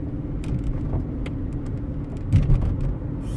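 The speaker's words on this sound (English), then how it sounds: "Changing the gears, there's no jerking, there's no hesitation, is extremely smooth." A Mercedes W203 C-Class runs steadily under way through its gear changes, a low continuous engine and road rumble from inside the cabin with a slight swell near the end and no abrupt jolts.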